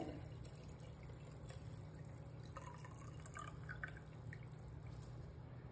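Water trickles and splashes softly into a container, faint and close, with small drips and gurgles.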